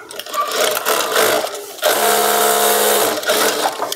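Sewing machine running steadily while stitching a side seam on a Patiala salwar, a loud continuous mechanical whir with a brief pause before it resumes at an even rate.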